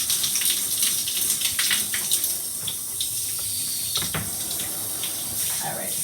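Tap water runs steadily into a sink while a cloth elastic hair tie is rinsed beneath it, a continuous close splashing rush with small shifts in the flow.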